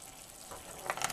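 Sizzling and frying from a seafood curry stir-fry with coconut milk as water is poured into the hot pan, a soft steady hiss that brightens into louder bursts near the end.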